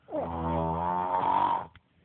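One long, rough snore from a man asleep, loud and near, a steady rasping drone lasting over a second before cutting off abruptly.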